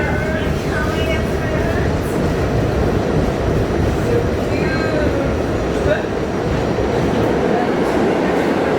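An MTA R68A subway train on the Q line rides through New York, with a loud steady rumble, faint squeals and clicking of wheels under a voice speaking.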